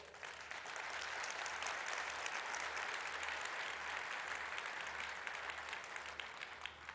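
A large audience at a ceremony at the Akkuyu nuclear power plant in Turkey applauds steadily and evenly for several seconds, a dense wash of clapping heard from a distance.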